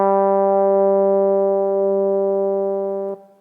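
A single sustained note from an Osmose synthesizer, shaped by an EaganMatrix envelope held at its maximum ramp rate, rings as a bright, steady harmonic tone for about three seconds before abruptly cutting off and fading.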